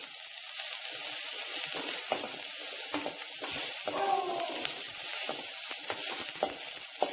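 Green chillies frying in a pan for pudina tomato chutney make a soft, steady sizzle broken by repeated spatula scrapes and taps, with a brief clatter midway.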